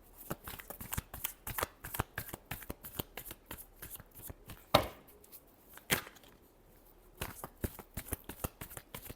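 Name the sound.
shuffling tarot cards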